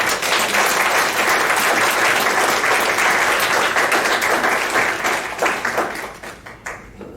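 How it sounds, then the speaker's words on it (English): Warm applause from a church congregation at a Sunday morning service, a dense, loud wash of clapping that holds steady and then thins out and fades near the end. "And so let's give them a warm round of applause."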